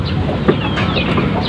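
A brooding native hen in a nest of eggs gives low, continuous clucking and grumbling at close range, loud and alone with no voices.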